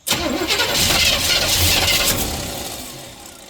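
A 1975 Chevrolet El Camino engine cranks over continuously, a loud near mechanical churn with a steady starter rhythm that holds for several seconds before easing slightly toward the end, no voices over it.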